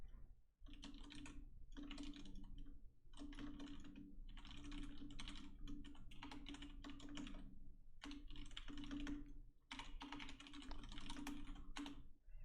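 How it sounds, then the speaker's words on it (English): Loud computer keyboard typing fills the room in quick, clattering bursts with short pauses between runs of keystrokes, close and dry, with no talking. "Oh gosh, my keyboard's crazy loud."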